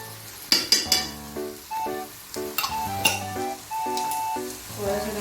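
Chow mein sauce hits a hot pan of noodles with Schezwan chutney, sizzling steadily while a utensil clinks and scrapes against the pan as the food is stirred, close and fairly quiet.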